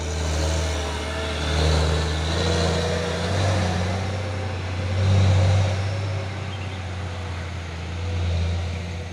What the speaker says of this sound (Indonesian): ini ada satu unit truk trailer lewati tanjakan Bukit Kodok di siang hari